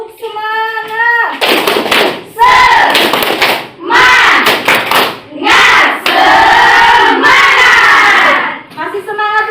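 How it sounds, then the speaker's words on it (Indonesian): Schoolchildren in a classroom perform a rhythmic spirit-clap routine, loud group claps alternating with shouted chanted syllables in repeated bursts, close and energetic. "Tepuk semangat."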